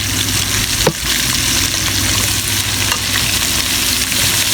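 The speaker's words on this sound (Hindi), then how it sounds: "अब इसको अच्छे तरीके से हमने प्याज़ों को फ्राई करना है, ताकि इसका पानी भी ड्राई हो जाए" Long-sliced onions, three or four large ones, frying hard in a pan with a loud, dense, continuous sizzle, close up, with one brief clack of a spatula near the start and no voices.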